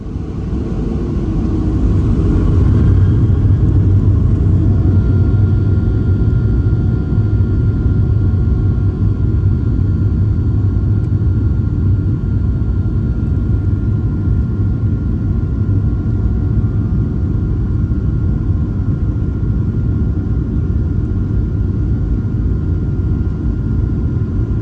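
An airliner takes off from runway 19 left in Alaska in winter, heard from the cabin as a loud, steady engine roar and deep rumble that builds quickly, then holds constant through the climb.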